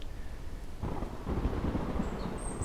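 Steady Minecraft rain hisses close and even, with a low rolling rumble of thunder swelling partway through, no speech.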